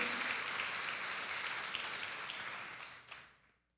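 A church congregation applauds during a sermon, with dense, loud clapping that holds steady and then fades out toward the end.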